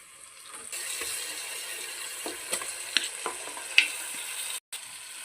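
Minced mutton keema is added to a hot frying pan and stirred, producing a soft sizzle and a few light scraping and clinking stir sounds, fairly quiet and close.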